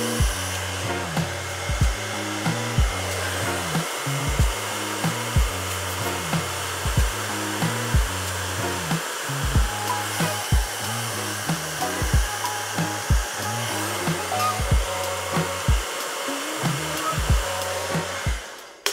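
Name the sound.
blow dryer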